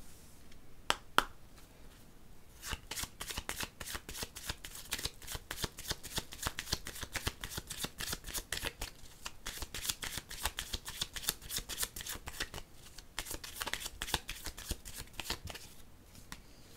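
Tarot cards are shuffled by hand in quick, crisp riffling bursts of close flicks and snaps. The bursts repeat for the whole stretch, with a short pause near the start.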